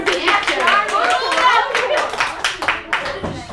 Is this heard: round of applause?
yes